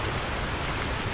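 Steady rain falls over a broad, even hiss with a low rumble underneath, constant and fairly loud, with no voices.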